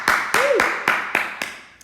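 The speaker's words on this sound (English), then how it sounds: "And give them a clap." Children and teachers at a primary school assembly clap together in a short run of steady, evenly spaced claps, with a voice briefly over them.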